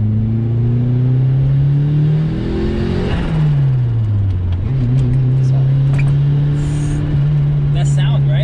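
A turbocharged Mazda Miata pulls hard under acceleration, its engine droning loud and close while the blow-off valve flutters as the revs dip and climb, with voices talking over it.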